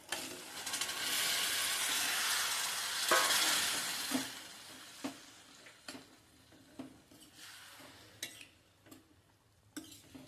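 A burst of loud sizzling as boiled field beans hit hot oil, then fading crackle with a utensil scraping and clicking against the pan in an uneven rhythm.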